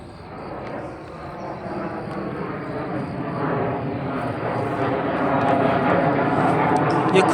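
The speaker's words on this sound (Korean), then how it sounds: "비행기 많이 떠다니네" A fixed-wing airplane passes overhead near an airfield by a Goguryeo stele museum in Chungju, its engine a steady broad roar that swells gradually louder across the clip; people talk in the foreground.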